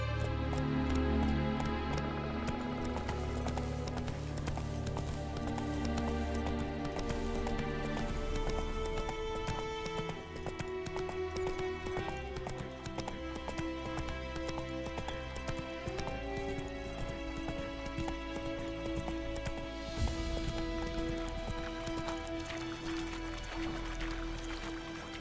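Horse hooves galloping in The Witcher 3 video game, a rapid, steady clip-clop rhythm carrying on throughout over a dense musical score.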